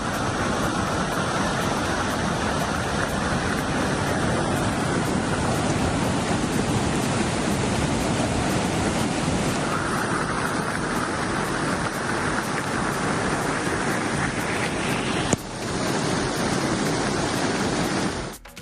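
The Beas River at Mandi floods during heavy rain, giving a loud, unbroken rushing roar of water for the whole stretch, with a sharp knock near the end before it cuts off.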